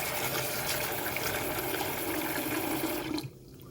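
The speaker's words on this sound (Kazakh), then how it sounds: "Күрішті жуып аламыз." Rice being rinsed in water, with a steady gushing pour of running water that carries on for about three seconds and then suddenly cuts off.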